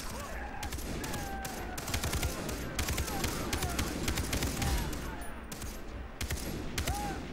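Gunfire in the Far Cry 3 video game, a dense continuous stream of rapid shots and machine-gun bursts that stays loud and close throughout.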